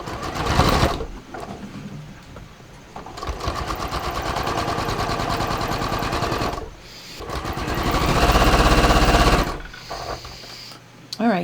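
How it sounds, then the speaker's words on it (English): A sewing machine stitches a facing around a pants hem. It runs in two long rapid bursts with a brief pause between, loud and close, with a short stop at the start and another at the end. "I'm going to just start stitching."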